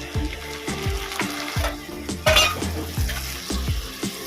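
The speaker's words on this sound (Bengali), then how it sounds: "দেব আদা রসুন বাটা যতক্ষণ না কাঁচা গন্ধ যায় ততক্ষণ পর্যন্ত এটা ভেজে নেব" Ginger garlic paste fries in a pan while a spoon stirs it, with repeated scraping, clattering strokes against the metal over a steady sizzle, close and fairly loud, no talking.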